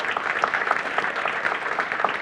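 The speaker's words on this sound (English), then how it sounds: "let's give them a quick round of applause" A brief round of applause from a conference audience at an opening welcome session, moderately loud clapping with individual claps audible in the mix, continuing steadily without talk.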